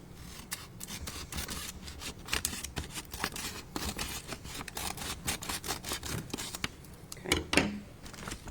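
Scissors snip repeatedly across the top of a paper envelope in quick, quiet cuts, a crisp rasping rhythm with a slight rustle near the end.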